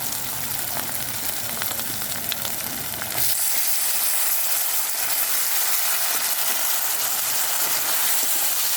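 Cleaned mushrooms go into a pan of cooked spice masala and fry with a loud, steady sizzle, a village-style kitchen setting with no talk over it.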